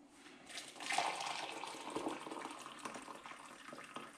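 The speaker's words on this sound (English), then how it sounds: "Let's get some hot water in there." Hot water is poured into a pot with stock cubes to make soup stock, a soft, steady splashing stream close by that rises quickly and continues evenly at low volume.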